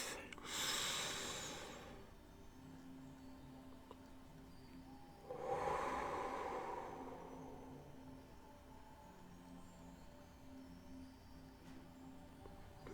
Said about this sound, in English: One deep breath.